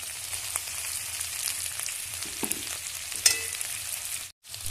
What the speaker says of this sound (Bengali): টমেটো আদা রসুন পেঁয়াজটা কিছু সময় রেখে একটু মেরে করে নিয়েছি আর ভাজা ভাজাও হয়ে গেছে